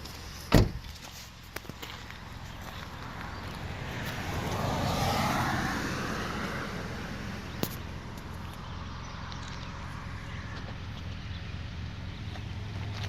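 A car door on a 2013 Hyundai Tucson closes with one sharp, close thud near the start. Steady, quiet outdoor ambience follows, with a few faint knocks.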